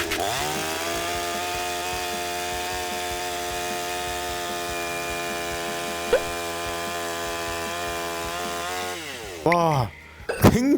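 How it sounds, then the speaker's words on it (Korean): A budget gasoline chainsaw cuts through a block of ice with a steady, high, buzzing drone that ends in a short rev and sputter as it is pulled free. "얼음을 자르는 영상을 보여봐 드릴 건데요 얼마나 부드럽게 잘리는지 요점도 한번 유심 있게 지켜봐 주세요"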